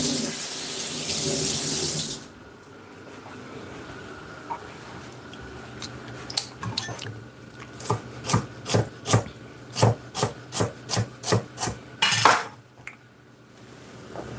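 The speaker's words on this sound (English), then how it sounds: "Just gonna rinse this off quickly." Tap water runs briefly into a kitchen sink while celery is rinsed, followed by a quick series of about a dozen sharp rhythmic knocks and rubs against the sink, close and fairly loud.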